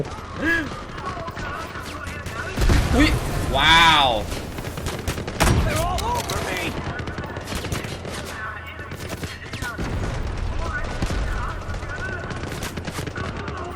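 Gunfire from Delta Force: Black Hawk Down rattles in bursts and single shots, loud and close at first and then thinning to sporadic cracks, with a voice talking over much of it.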